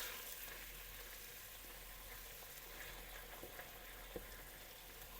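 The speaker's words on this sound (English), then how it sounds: "we have some olive oil already in there. Rabbit meat is going in now." Rabbit meat frying in olive oil in a pan for Spanish rabbit and rice, giving a steady, even sizzle with broadband crackle throughout, close and moderately quiet, with no talking.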